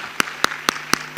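A church congregation claps in unison during a sermon, five evenly spaced, crisp claps in a quick, steady beat that ring close and loud.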